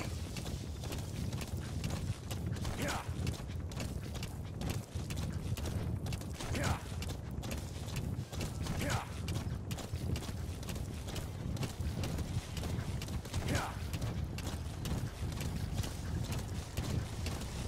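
Horse hooves clip-clop steadily in a video game, a continuous rhythmic trot of close, fairly loud footfalls with faint mechanical clicks mixed in.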